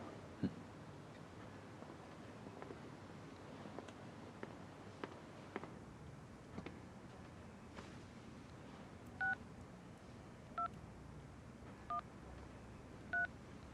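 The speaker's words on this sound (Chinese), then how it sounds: "我还要打个电话" A telephone number is dialed as a run of quiet keypad tones, four distinct beeps spaced about a second apart near the end, after faint ticks and taps in a hushed room.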